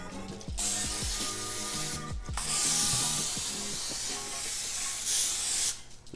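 Vegetable oil sprayed into a cast iron skillet from an aerosol can, a few quick clicks and rattles followed by long, loud hissing bursts close by.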